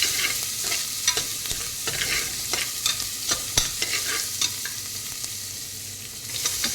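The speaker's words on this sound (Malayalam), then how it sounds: "നന്നായി ഇളക്കുക" Spices fry in a pan with a steady hiss while a utensil stirs them, producing regular scraping clicks against the pan, close and clear with no talk.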